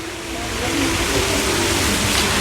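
Sea waves at Langeron beach in Odesa wash in a steady, dense roar of surf that swells slightly and holds without pause, heard close and fairly loud with no voices.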